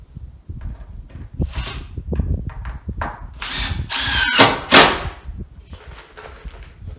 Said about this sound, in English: What I like about working with green wood, it doesn't split out so bad on you when you're running screws into it.